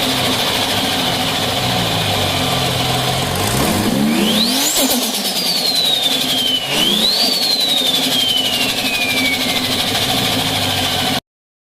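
A Toyota Supra MK4's 3.0-litre 2JZ turbocharged inline-six revs hard twice, pitch sweeping up sharply and falling away after each rise, loud and close over a steady engine drone with no talking.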